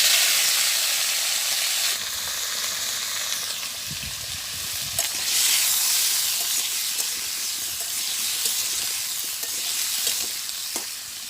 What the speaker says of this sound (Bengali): তো তেল গরম হয়ে গেছে, আমি এখন সবজিটা দিয়ে দেই।